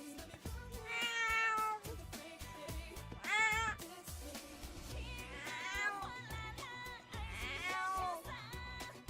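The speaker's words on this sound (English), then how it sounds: "This is our cat." A pet cat meows repeatedly, several drawn-out calls rising and falling at close range, mixed with other indoor sounds and background noise.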